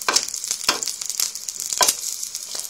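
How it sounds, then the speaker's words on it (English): An egg frying in a pan crackles and sizzles with a steady hiss and sharp pops of spitting fat, close up and with no talking. "How long you keep the egg cooking does depend on how much you like your eggs."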